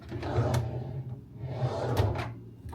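A dated hotel room cabinet drawer slides open and shut, two smooth rumbling wooden slides with light knocks at the ends, close by and without talk.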